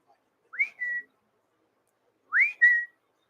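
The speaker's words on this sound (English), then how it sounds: "that used to be the old Twitter alert whistle." An Amazon parrot whistles the old Twitter alert sound twice, each a rising chirp gliding into a short steady tone, clear and close in a quiet room with a pause between.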